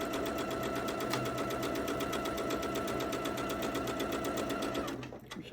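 A domestic sewing machine stitches pieced quilt blocks, its needle chattering in a fast, steady, even rhythm close by for several seconds before it winds down and stops.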